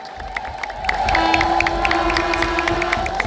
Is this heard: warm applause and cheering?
yes